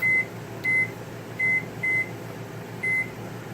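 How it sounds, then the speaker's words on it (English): Kitchen timer beeping after being set while hard boiled eggs cook, giving five short, clear, high electronic beeps at uneven intervals over a low background hum. "set the timer for 12"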